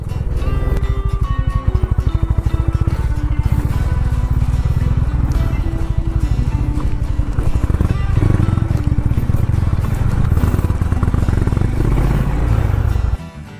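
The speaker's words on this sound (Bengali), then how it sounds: "এই জঙ্গলের মধ্যেও কিন্তু বাইক চালানোর একটা আনন্দ কিন্তু আলাদাই" A motorbike engine drones loudly and steadily for the whole stretch, rattling and clattering as it rides over a rough forest trail, cutting off at the end.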